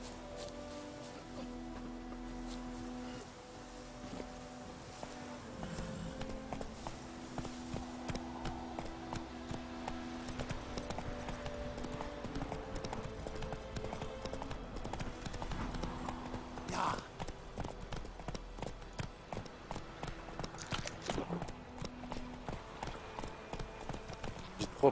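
In The Witcher 3 video game, horse hooves clip-clop at a steady trotting rhythm throughout, underneath layered game music with sustained tones and occasional voices.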